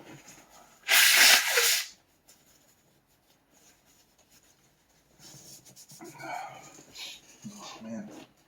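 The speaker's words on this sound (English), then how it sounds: "that was a hearty sneeze" One loud, hearty sneeze from a man whose nose is irritated by jalapeño, sharp and close. Faint rustling and quiet sounds follow, with talk picking up afterward.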